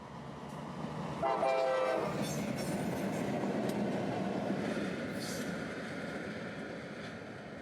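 A freight train rumbles past up close, a loud steady roar of rolling wheels with a brief horn blast early on, fading slightly toward the end.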